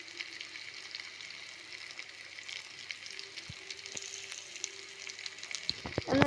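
Masala of green mango, chili, garlic and ginger sizzling and frying in a pan, a steady close crackle with light stirring scrapes and a louder clatter at the end.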